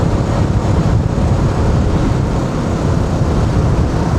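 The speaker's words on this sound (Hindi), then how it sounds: "हवा काफ़ी तेज़ है" Strong wind buffets the microphone on a long bridge, a loud, steady low roar with rumbling gusts throughout and nothing else clearly audible.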